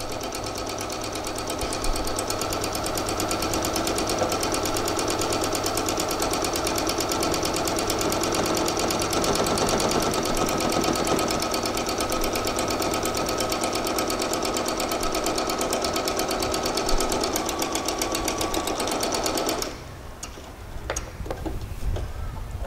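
A sewing machine runs continuously, stitching belting onto a pair of shorts with a fast, even, close whir for about twenty seconds, then stops and leaves light handling noises.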